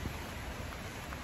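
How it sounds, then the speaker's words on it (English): Steady rain falling outdoors on a wet day during a gutter-cleaning job, a soft, even hiss of drops with no distinct splashes, fairly quiet and continuous with no voices. "As you can see, it's raining today"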